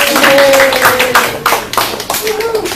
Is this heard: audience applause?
yes